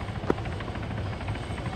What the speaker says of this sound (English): Ah, that's a helicopter.